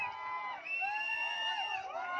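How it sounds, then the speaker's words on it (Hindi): Audience at a kite festival event in Pune cheers and whoops after a dance performance, a bright, shrill crowd roar with rising and falling voices held steady throughout. "ये तालियां सिर्फ आपके लिए है"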